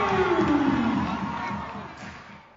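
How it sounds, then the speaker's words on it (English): Roaring crowd at a college basketball tournament game, a dense wash of cheering and shouting that swells loud at first and slowly fades, with a rising whistle-like tone sliding through the start. "followed by the roar of the crowds"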